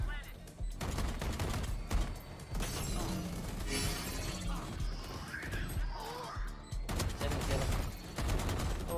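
Dense, rapid gunfire in the shooter game Valorant, with bursts and shattering impacts running nearly the full length and loud throughout, alongside in-game effects.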